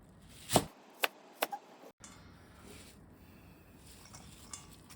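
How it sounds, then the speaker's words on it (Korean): A knife chops Yeongyang chili peppers into pieces about 3 cm wide, giving four sharp, close chops in the first second and a half, followed by a quieter stretch of faint kitchen background. "영양고추는 3cm 정도 폭으로 잘라주세요."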